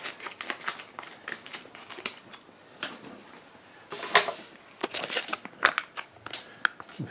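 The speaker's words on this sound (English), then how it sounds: "pardon me while I open it with scissors" Scissors snip and crinkle through a plastic MRE smoothie pouch on a tray, a string of short cuts and crackles close to the mic, with rustling packaging in between.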